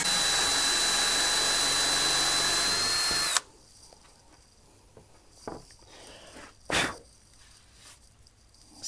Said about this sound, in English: I'll drill this one since we're already going.